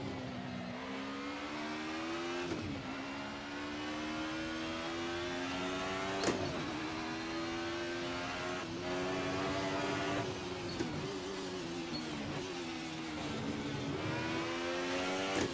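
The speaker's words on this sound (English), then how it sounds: "this is the Alfa Romeo, I think it's 155 Ti. It's the Alfa Romeo DTM touring car." Alfa Romeo 155 DTM touring car engine in Assetto Corsa, a steady high-revving drone with rising and falling pitch through gear changes, loud and continuous with brief sharp shifts, no talking.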